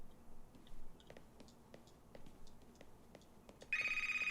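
A telephone starts ringing near the end, a loud, steady electronic ringtone cutting in suddenly after a stretch of quiet ticking and faint movement.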